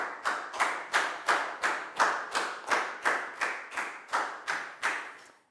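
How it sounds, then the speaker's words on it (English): A Year 4 maths class claps in unison for a pupil, about a dozen crisp, evenly spaced group claps in a steady rhythm, close and clear with no talking. "a big round of applause for Dan"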